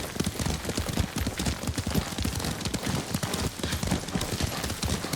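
Horse hooves in the video game Ghost of Tsushima clip-clop in a steady trotting rhythm, dense and continuous, with a faint outdoor ambience behind.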